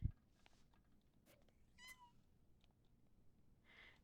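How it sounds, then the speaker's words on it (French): A pet cat in The Sims 4 game gives a short, faint meow partway through, alone over a quiet low background hum with a few soft clicks. "Regarde mon petit chat."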